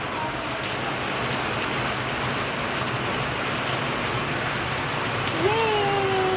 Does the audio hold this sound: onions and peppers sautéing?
no